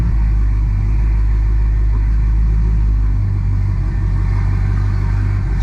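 A manual 6-speed swapped Dodge Hellcat Charger drives along, its supercharged engine a deep, loud, steady rumble heard from inside the cabin, with no talking.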